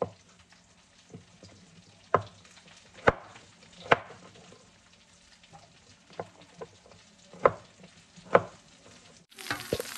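Food frying in a pan with a soft background sizzle, broken by a handful of sharp, close scrapes and taps as it is stirred, each spaced about a second apart, no speech.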